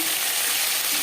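Bhola fish fries in oil until lightly reddened, giving a steady, close, dense sizzle that holds evenly throughout with no voices.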